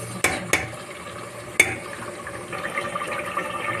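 Duck meat and potatoes sautéing in oil with onion, ginger and garlic paste, opening with three sharp clacks of a spoon on the pot, then a low, wet, bubbling sizzle close by.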